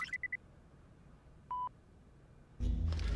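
Three quick telephone keypad tones open, followed by a single longer beep, in a mostly quiet room; louder noise cuts in at the end.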